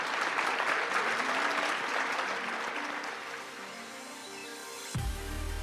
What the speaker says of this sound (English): A fierce round of applause for Frederike, José Luis, and Jennifer as we wrap up this panel